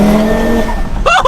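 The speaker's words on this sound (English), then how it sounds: "we definitely have some more turbo noise" Audi TT RS with a newly fitted cold air intake under hard throttle, a loud, close engine and turbo roar holding steady before dropping off, followed by a short burst of voice at the very end.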